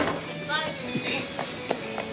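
A horse's hooves clip-clop on the ground during a family trip to Catalina island, with voices chatting over the steady footfalls.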